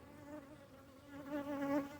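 Honey bees buzz faintly inside a sparsely populated nuc hive in South Louisiana in winter, a steady droning hum that swells slightly toward the end.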